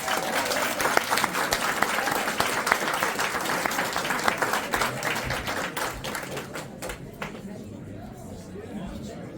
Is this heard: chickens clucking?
no